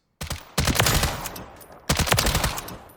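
An NG LVAW tactical weapon fires in Call of Duty Modern Warfare III in two long, loud, sustained bursts of rapid automatic fire that crackle and rumble, with a short gap between them.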